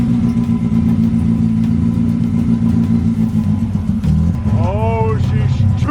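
A cheap, smoking Mazda Miata engine rumbles loudly and steadily throughout with throttle given, a rough, deep drone that shifts slightly near the end as a voice exclaims over it.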